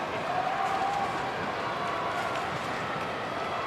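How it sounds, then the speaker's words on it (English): A vocal Giants crowd at an AFL match between Greater Western Sydney and Hawthorn makes a steady, distant roar of chatter and calls that fills the whole stretch without letting up. "it's a vocal Giants crowd here at the moment"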